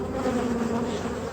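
Honey bees swarm around an open beehive, their dense, steady buzzing filling the air close by without a break.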